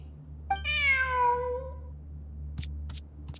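A single drawn-out, rising-then-falling cat meow from the video game Genshin Impact, clear and close, followed by a couple of faint clicks against a low background hum.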